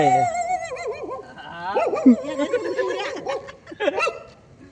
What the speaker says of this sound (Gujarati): કૂતરું ભડક્યું